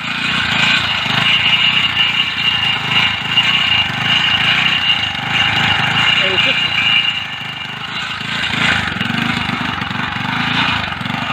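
A Mk6 tip bike engine runs steadily on the fuel left after the tank tap is shut off, a loud, close, continuous idle with no pauses.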